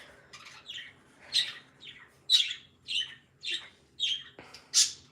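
Small pet birds chirp and squawk in short, sharp calls at a steady pace, fairly close, with no voices around them.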